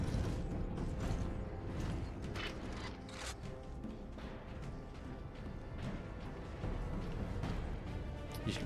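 A heavy door grinds and creaks open in the Warhammer 40K Space Marine video game, a continuous mechanical rumble with clanking under a dense game soundscape.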